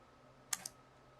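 A couple of sharp keystrokes on a computer keyboard while entering an lftp localhost command, two quick clicks close together and otherwise quiet.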